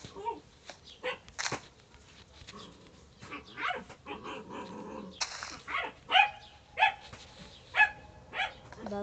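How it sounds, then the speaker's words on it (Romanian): A dog in the Minecraft video game barks and yips in short repeated bursts, fairly quiet, with a few growl-like sounds and scattered faint background noise. "Da, asta e câinele meu."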